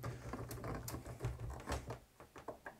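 Keys on a Novation SL MK3 MIDI controller keyboard are pressed at the back of the keybed and bottom out, giving a quiet, irregular run of close plastic clacks and thumps, like soft typing.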